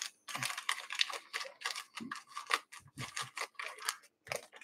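Scissors cutting a strip of foam sheet for tying a sandbar fly pattern: a run of crisp, close snips and crunchy cuts in an uneven rhythm, with brief pauses between bursts and no talking.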